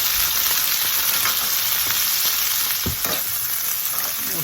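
Chicken pieces fry and brown in a pan with a steady, dense sizzle close by, and an occasional faint clink of a utensil.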